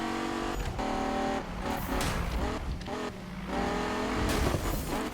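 An SRT Viper races in Need for Speed 2015, its engine revving hard and pulling through quick gear changes. Brief dips mark the shifts, with hints of tire squeal under a loud, continuous engine note.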